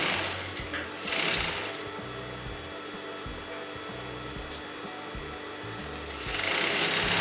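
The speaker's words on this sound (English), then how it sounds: "Little by little you're going to sew on the neckline like this" A sewing machine stitches a kurta neckline, its motor whirring steadily and close in short bursts, slowing and speeding as the fabric is fed little by little.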